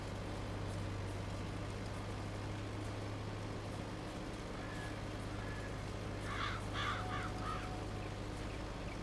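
Crows caw in the Farming Simulator 22 farm game, a short cluster of several harsh calls in the middle distance over a constant low engine-like drone from the game.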